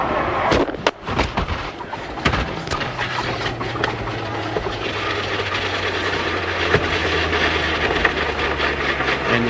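A race car spins and grinds to a stop during a motorsport race, with loud impacts and bangs at the start, then a steady broadband roar and a low engine drone close by.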